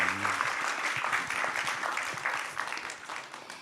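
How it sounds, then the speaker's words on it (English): A gala audience applauds the honorees of the Erase Indifference Challenge 2024; sustained, full clapping from a crowd that stays strong and then eases slightly toward the end. "Please give one more round of applause to all these amazing people."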